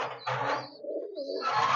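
A racing pigeon with a blue beak coos nearby, a short throaty murmur that dips and rises over about two seconds, loud and alone.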